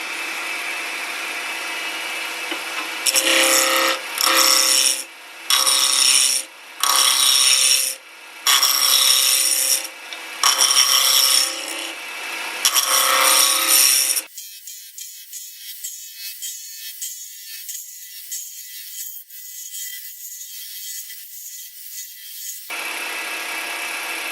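A roughing gouge cuts an acrylic blank spinning on a wood lathe, giving loud, harsh scraping bursts in repeated passes, followed by a steadier, thinner whirring hiss of the spinning work between cuts.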